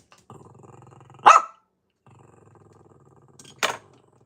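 A dog growls low and steadily, then lets out a sharp bark; after a pause the growling resumes and ends in a second bark.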